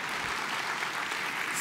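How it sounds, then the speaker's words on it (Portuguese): Steady applause from a church congregation, a dense even patter of many hands clapping at once, fairly quiet and sustained without a break. "E vamos aplaudir a Jesus."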